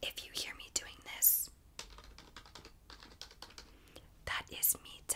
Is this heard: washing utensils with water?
no